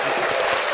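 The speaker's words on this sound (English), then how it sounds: "Give my star some hand claps." A studio audience on a podcast set gives a short burst of hand claps, dense and steady throughout with no talk over it.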